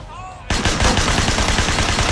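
Gunfire in the video game Sleeping Dogs starts abruptly after a quiet half-second, a loud rapid burst of shots continuing to the end.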